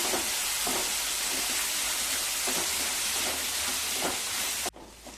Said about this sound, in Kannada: ಟೊಮೊಟೊನೂ ಸಹ ಸ್ವಲ್ಪ ಸಾಫ್ಟ್ ಆಗೋವರೆಗೂ ಫ್ರೈ ಮಾಡ್ಕೊಂಬಿಡೋಣ.